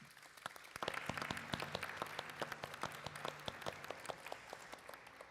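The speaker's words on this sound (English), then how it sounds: "Let's give them a round of applause" Sparse clapping from an audience at a museum author talk, with distinct individual claps over a low hum, fairly faint and uneven, thinning in places.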